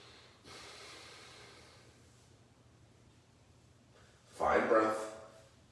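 Slow yoga breathing during a gentle stretch class: a soft, drawn-out breath early on, then a louder, rushing exhale near the end, close and otherwise quiet.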